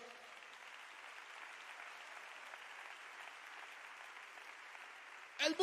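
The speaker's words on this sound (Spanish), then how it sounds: "Dale ese aplauso al Señor." Steady congregational applause fills a church service, a dense, even wash of clapping from a crowd that holds for several seconds before a brief louder burst at the end.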